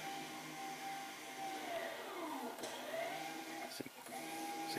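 Whirring electric parking brake motor leaving its service position at the rear of a car during a brake pad change, with a low battery voltage; the motor whines with rising and falling pitch sweeps and a few clicks.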